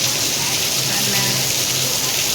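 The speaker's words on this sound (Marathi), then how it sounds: "एवढा पावसाचा आवाज आहे बरं का" Heavy rain pours down outdoors, soaking parked vehicles, as a dense, steady hiss with no pauses or breaks.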